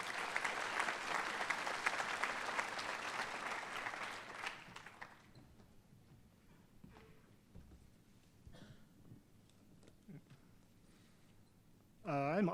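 Audience applause at a spring commencement ceremony for an environmental design program, a broad wash of clapping that fills the first half then fades into quiet room noise, with a brief thump near the end.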